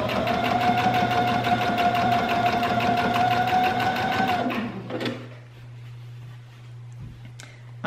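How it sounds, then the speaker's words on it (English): A sewing machine stitches down the edge of a storage bag, a loud, close, rapid steady whir for about four seconds, then stops, leaving a low hum. "Okay, I'm gonna sew all the way down the edge."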